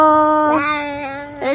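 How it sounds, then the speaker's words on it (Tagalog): A cat meows up close in a long drawn-out, tonal cry, followed by a brief second meow rising at the very end. "Hinahabol pa nila yung pusa."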